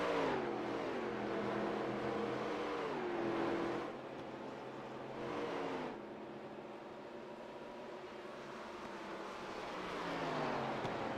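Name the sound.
stock race car on pit road in a racing video game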